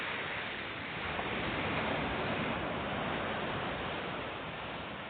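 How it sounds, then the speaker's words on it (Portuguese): A small river pours into the sea with a steady, unbroken rushing hiss that stays even and fairly loud throughout, with no voices. "essa daqui é um riozinho que está entrando no mar"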